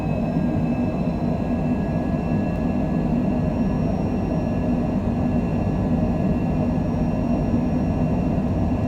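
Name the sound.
airliner engines during takeoff roll at Vancouver airport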